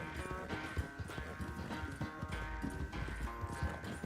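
Horse hooves galloping in Red Dead Redemption 2, a quick rhythmic clip-clop of hoofbeats that carries on steadily with game ambience behind it.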